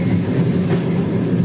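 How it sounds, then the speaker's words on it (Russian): A train runs along a prison camp railway line in Mordovia, giving a loud, continuous rolling rumble with a steady low roar and no pauses. "Этот поезд идет по специальной лагерной ветке."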